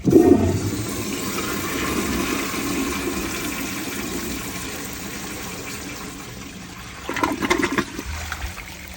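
A 1978 American Standard Glenco 5-gallon toilet on a 3.5-gallon diaphragm flushes with a loud initial gush. The swirl drains away and the tank refills, with another gurgling surge near the end.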